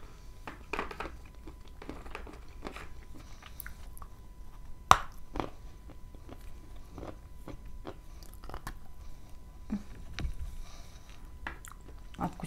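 Someone bites into and chews a crumbly, dry Zhetysay melon, giving scattered soft crunches and crumbling bites over a quiet background, with no talk.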